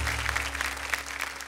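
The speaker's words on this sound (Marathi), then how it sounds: "जोरदार टाळ्या झाल्या पाहिजेत" Applause from an audience at a devotional kirtan singing competition stage, a dense patter of many hands clapping, moderately loud and continuous, with a steady low hum underneath.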